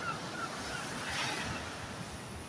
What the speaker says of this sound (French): Vous voyez, les vagues sont beaucoup moins fortes.